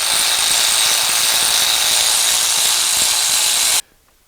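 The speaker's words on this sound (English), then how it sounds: "Did that guy just use a power tool on a brand new car?" Continuous loud whirring buzz of a power tool used on a brand new car engine, steady for nearly four seconds before cutting off abruptly, close and without voices.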